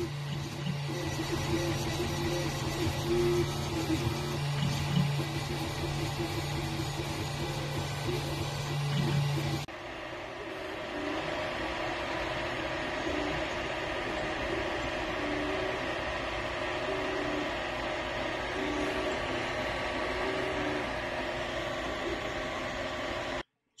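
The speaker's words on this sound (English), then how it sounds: "Here's a noise comparison I forgot to do in the first video of a stock Ender 3 versus Ender 3 V2" Stock Ender 3 and Ender 3 V2 3D printers running one after the other, steady fan whir and motor hum, the first louder with a strong low drone, the second quieter, with no talk.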